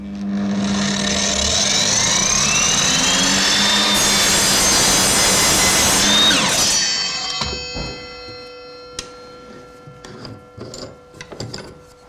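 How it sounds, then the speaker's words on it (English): An Evolution power saw rips loudly through wood studded with large embedded nails, a sustained whining, grinding cut for about six seconds before the motor winds down, followed by scattered clatter and knocks. "See how easily this saw handles those nails? There was no kickback during the cut."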